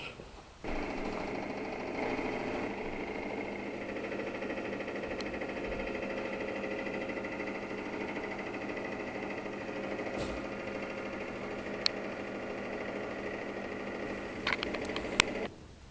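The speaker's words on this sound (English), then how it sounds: "This is a sound you don't want to hear from your engine." A steady, rapid mechanical ticking and clatter from an idling MGB engine running without enough oil runs continuously, with a few sharp clicks near the end.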